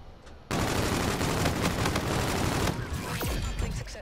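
Dense, loud automatic gunfire from a Call of Duty: Infinite Warfare match, a sustained roaring burst of rapid shots for about two seconds, then quieter scattered firing and a falling whistle-like sound.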